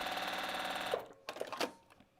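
A sewing machine quilts a fabric postcard, running in a fast steady stitching rattle for about a second before stopping, followed by a few soft handling clicks and bumps.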